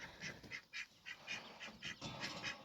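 Ducklings and ducks quacking at close range, a rapid run of repeated quacks in a steady rhythm, fairly faint.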